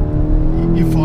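A Skoda VRS245 road-going track car's engine drones loud and close at a track day, a steady low rumble with a slight rise near the end.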